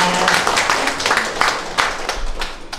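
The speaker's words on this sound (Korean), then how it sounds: "박수 한번 부탁드립니다" Guests at a Korean–Chinese contemporary art exhibition gathering clap in a scattered, uneven round, with individual hand claps standing out and faint voices beneath.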